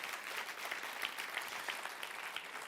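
Church congregation applauding, a steady dense patter of many hands clapping at moderate distance, fairly faint and continuous without voices.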